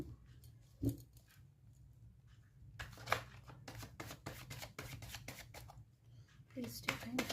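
Tarot cards shuffled and drawn by hand, soft papery riffles and flicks in bursts amid a quiet room, with someone speaking intermittently over the handling.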